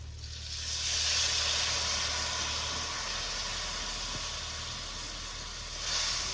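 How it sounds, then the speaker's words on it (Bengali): Spiced water poured into a pan of fried bitter gourd, giving a loud, broad steamy hiss that swells at once and holds steady, then flares again near the end, no talking. "তো আমার ভাজা হয়ে গেছে এবার মশলা জলটা এবার উস্তার মধ্যে দিয়ে দেবো"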